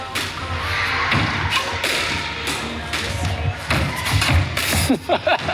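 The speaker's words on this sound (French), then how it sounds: "on essaie de s'arrêter pour frapper la balle" A squash ball is struck with a racket on an indoor court, with repeated sharp thuds in an uneven rally rhythm, along with footsteps and faint voices in the background.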